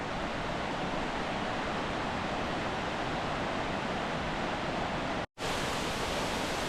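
Dense, constant rushing roar of a seasonal waterfall in the Columbia River Gorge, broadband and unbroken, interrupted only by a brief cut near the end.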